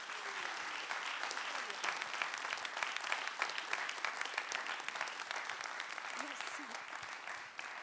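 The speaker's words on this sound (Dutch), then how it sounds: "Geef hem een heel hartelijk applaus." A studio audience claps warmly for a guest, steady applause at a moderate distance with brief voices surfacing near the end.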